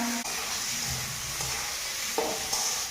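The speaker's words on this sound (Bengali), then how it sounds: "কড়াইতে তেল দিলাম, হলুদ গুঁড়ো দিলাম একটু, যাতে জলটা মাংস দিলে জলটা টেনে যায়। মাংসটা দিয়ে দিলাম," Chicken pieces fry in oil with a little turmeric powder in a wok, giving a constant close, hissing sizzle with a few soft stirring knocks and scrapes, and no talking.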